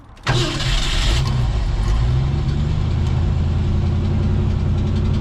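A 1968 Ford F100 truck engine cranks and catches, then settles into a loud, steady idle running close by with no talk over it.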